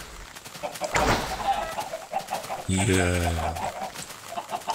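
Chickens cluck in Minecraft, with a clear burst of harmonic fowl calls near the middle, mixed with game noise while someone speaks Swiss German over them.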